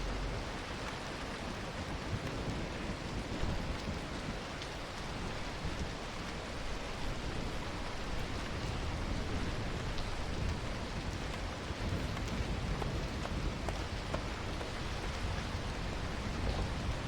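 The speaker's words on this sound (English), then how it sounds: "So we'll wait until the storm ends." Storm rain pours steadily in the city-building video game Against the Storm, a dense, even hiss of rainfall that continues unbroken for the whole stretch, soft in level and with no voices over it.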